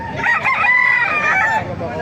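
A single rooster at a Baliuag market lets out a loud, nearby crow that holds steady for over a second before trailing off, set against low crowd murmur.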